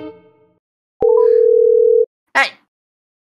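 A telephone ringback tone sounds once, a steady electronic tone about a second long, loud and close, heard alone without talk while a call is placed to a kindergarten.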